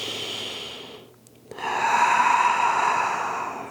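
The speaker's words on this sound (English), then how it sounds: "One more deep breath here." A slow, deep breath during a calm yoga flow: a soft exhale, a brief pause, then a long, airy inhale that swells and holds, close and steady with no talking.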